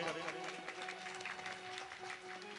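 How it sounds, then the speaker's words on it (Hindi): Applause from a devotional gathering at a Shri Ram Katha recitation, a dense continuous patter of many hands clapping together, steady and moderately loud throughout. "जोरदार तालियों से समस्त भक्तों का सम्मान करें।"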